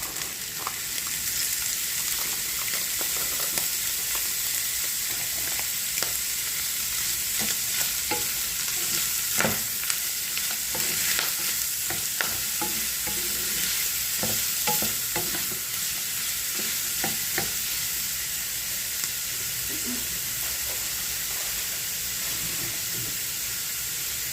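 Frozen mixed vegetables sizzle and fry steadily in a pan of beef curry, with a constant bright hiss and repeated scraping stirs across the whole stretch, close and fairly loud, with no talking.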